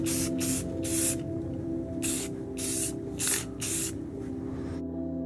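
Rust-Oleum spray paint hisses onto an armor prop in a series of short bursts, some separated by brief pauses, close and fairly loud over a steady low hum, ending in near silence.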